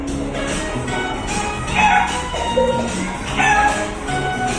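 Chickens or a rooster crowing and clucking in repeated calls, fairly close and loud, with no talk.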